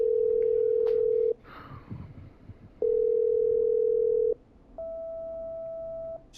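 A phone line in the video game Killer Frequency rings as a call connects: steady ringback tones in two long bursts separated by a pause, then a higher, thinner tone, loud and clear with faint background between.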